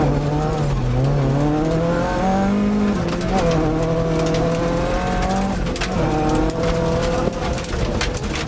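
A classic Ford Escort rally car powers out of a corner on a Scottish rally stage, its engine note climbing and dropping through gear changes, loud and close and continuous, with crowd noise faintly underneath.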